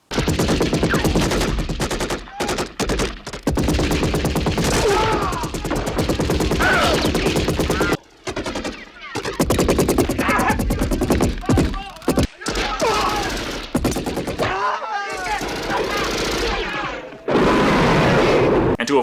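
Machine gun fire from the action film Commando: loud, sustained rapid bursts broken by brief silent gaps, with voices mixed in.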